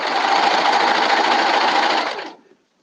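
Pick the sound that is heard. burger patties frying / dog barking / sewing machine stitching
sewing machine stitching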